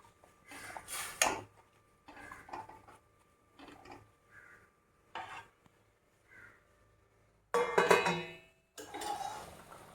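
A plate is set down as a lid over a pan of Kumbakonam kadappa cooking on the stove, giving clattering metallic clinks and scrapes in scattered bursts, with a louder clang of dishware toward the end.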